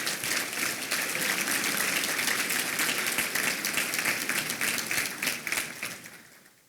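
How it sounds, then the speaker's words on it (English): An audience at a regional chamber award ceremony applauds award nominees, a sustained round of clapping that tapers off and fades near the end. "Can I please have a round of applause for our first group of nominees?"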